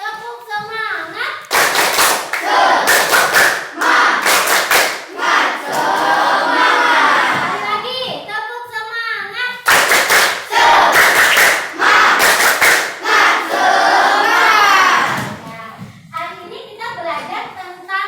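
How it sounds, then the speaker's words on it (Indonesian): A class of children performs the rhythmic tepuk semangat clapping chant, loud bursts of group clapping alternating with shouted chanted lines in a lively repeating pattern, close and energetic. "kita tepuk semangat dulu yuk. Tepuk semangat."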